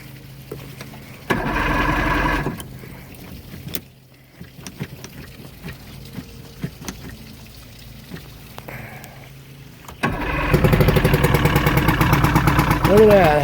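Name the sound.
Johnson 115 HP two-stroke outboard engine starting and idling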